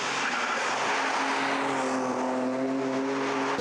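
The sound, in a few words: race cars (Ferrari 355, Porsche, Honda NSX) battling on track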